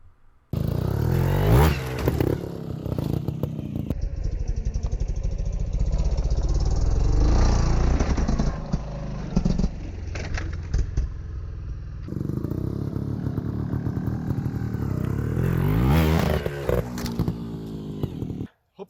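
A trials motorcycle on flat ground, its engine revving hard in loud repeated bursts with pauses between, close up, as the rider performs zap maneuvers, with brief talking.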